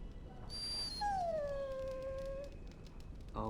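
A dog in Dragon Age Origins lets out a long, high, falling whimper that tapers into a drawn-out whine, faint and alone over a quiet background.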